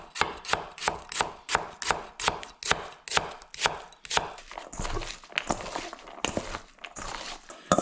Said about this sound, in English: Now I'm going to peel off the onions. I need to slice them.